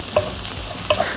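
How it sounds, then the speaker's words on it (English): Garlic sautés in a pan, a steady close sizzle with two light scraping stirs from a utensil, and no one speaking. "Now we just wanna cook this until the garlic gets nice and fragrant"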